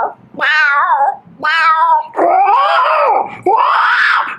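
A man imitates a cat with his voice, giving four loud, drawn-out meows in a row, the last two longer and more wailing, close and alone.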